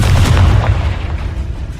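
A Confringo spell explosion in Hogwarts Legacy, a loud, deep booming blast with a heavy low rumble that rolls on and fades slightly over under two seconds, with no talk.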